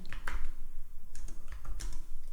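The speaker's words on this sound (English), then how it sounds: "I'm going to type" Fingers typing on a computer keyboard to enter Python code in Notepad, a close run of quick, uneven key clicks over a brief stretch.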